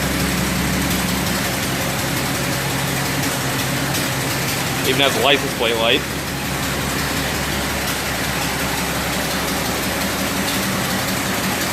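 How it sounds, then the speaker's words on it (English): A 1929 Chevrolet rat rod's engine idles with a steady, even low rumble, close by and continuous, while someone talks briefly over it. "The engine sounds really good. No knocking, pinging."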